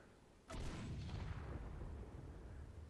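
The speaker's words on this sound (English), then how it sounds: "Okay, that's a good explosion." A sudden booming cannon blast in the video game Space Engineers erupts after a brief quiet, followed by a long rumbling roar that slowly fades, heavy and deep.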